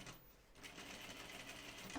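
Continuous fast whir of a sewing machine top stitching a jean skirt, close and steady with a brief pause at the start.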